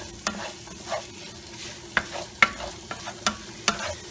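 Finely diced onions and garlic frying in oil for chili, a faint low sizzle broken by repeated sharp clicks and scrapes of a utensil against the pan.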